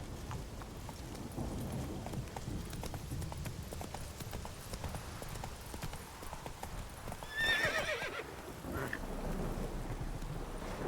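A horse's hooves clip-clop at a steady walking rhythm in The Witcher 3, with rain and rolling thunder behind them and a brief whinny partway through.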